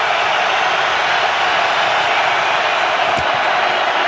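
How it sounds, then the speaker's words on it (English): A huge crowd roars at Soldier Field during an NFL wildcard playoff game between the Eagles and Bears, a dense, loud, unbroken wash of noise from start to finish. "Crowd roaring at Soldier Field"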